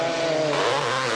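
Continuous loud roar of a racing quad motor at a quad race, steady engine drone with slight pitch sliding, heard up close and alone.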